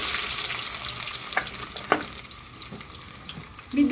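Oil frying in a hot pan on a home stove, a steady sizzle with scattered crackles and small pops across the whole stretch, a sharper spit near the end, no talking.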